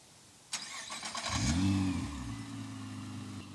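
Nissan GT-R sports car starting up in a lineup of cars, with a sharp starter whir and crank, then a rising rev that settles into a steady low idle rumble, close by with no talk.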